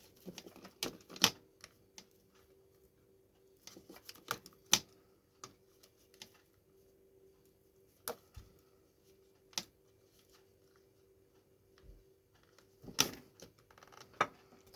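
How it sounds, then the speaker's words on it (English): Wires for fluorescent tube connections being snipped, a scattering of sharp isolated clicks and snaps at irregular intervals over a faint steady hum, close and fairly quiet with no talking. "We cut those wires"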